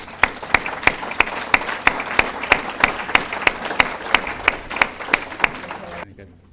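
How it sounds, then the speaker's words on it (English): A conference audience applauds to welcome a speaker, with loud, steady clapping and regular sharp accents running for about six seconds before it cuts off abruptly. "So we give George a round of applause."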